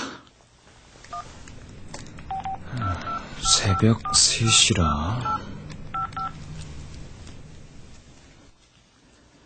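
A mobile phone keypad sounds a quick run of short beeping tones as an alarm is set, heard under and between a person's spoken narration.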